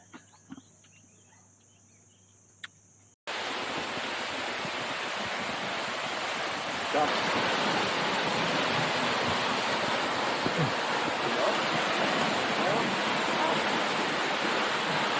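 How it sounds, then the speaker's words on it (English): Water rushing steadily at the Joktadin waterfall in remote Kanchanaburi, a loud, continuous broadband roar that begins abruptly after a few seconds of quiet and keeps going without a break. "we arrive at the Joktadin waterfall"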